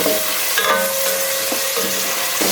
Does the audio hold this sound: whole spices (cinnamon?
yes